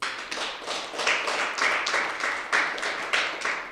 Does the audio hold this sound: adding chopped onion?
no